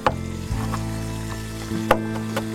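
Garlic sizzling in a pot as the base for halászlé fish soup, a steady close frying hiss with a few light clicks of a utensil against the pot, no voices.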